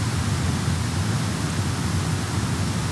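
Steady, dense room tone turned up loud, a flat continuous hiss with a heavy low rumble and no breaks or events across the whole stretch.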